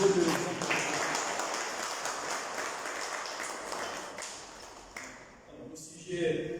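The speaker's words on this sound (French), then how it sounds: "Nous pouvons encore applaudir pour d'autres." Audience applause at a Gabonese Christian executives' movement conference, moderate clapping from a seated crowd that tapers away around five seconds, leaving a few stray taps and room sounds at the end.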